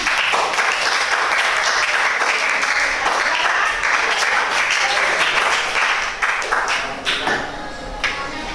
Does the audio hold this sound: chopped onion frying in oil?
no